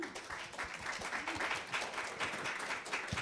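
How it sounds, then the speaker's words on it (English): Applause from a conference audience greeting a panel on creativity at the day's final session, a dense steady patter of many hands at moderate distance, fairly soft and continuous with no voices. "So let's give them a warm round of applause, folks."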